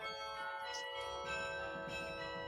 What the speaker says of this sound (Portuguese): A melhor maneira de sincronizar uma comunidade é tocar uma campainha.